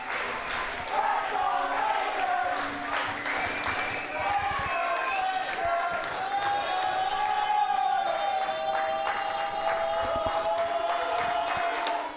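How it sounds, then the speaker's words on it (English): Baseball crowd at a London Majors playoff game cheering and clapping in the ninth inning, a steady distant roar with scattered claps and shouts, while a voice talks over it. "cheering along here for London."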